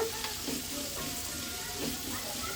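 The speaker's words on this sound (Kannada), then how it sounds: "ಶುಂಠಿ ಬೆಳ್ಳುಳ್ಳಿ ಈರುಳ್ಳೆಲ್ಲ ಸ್ವಲ್ಪ ಫ್ರೈ ಆಗಿದೆ" Ginger, garlic and onion fry in a pan for a mutton kheema ball curry, giving a steady close sizzle with faint scraping stir noises and no talk.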